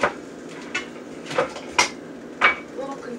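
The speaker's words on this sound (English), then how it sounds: "Little container with a lid in which I'll put my olives in." A small lidded plastic container handled in a kitchen before olives go in, giving four sharp, close clicks and clacks spaced unevenly, each with a brief bright rattle, over a quiet background.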